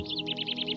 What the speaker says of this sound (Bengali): কেবল পাখির ডাক আর সবুজের সমারোহ